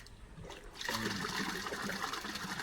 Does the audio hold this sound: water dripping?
yes